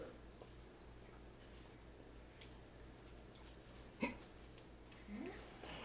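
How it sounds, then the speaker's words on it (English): A faint, sharp hiccup from a man after eating a very hot chip in the 2021 One Chip Challenge, followed by a softer second catch, rising briefly over low background noise. "Oh, he got the hiccups."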